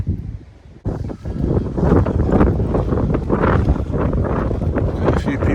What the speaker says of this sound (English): the weather's not brilliant, it's a bit windy